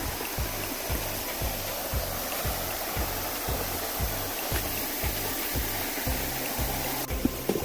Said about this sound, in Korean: 물소리 한번 감상해 보세요.